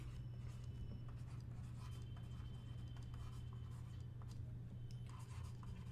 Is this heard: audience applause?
no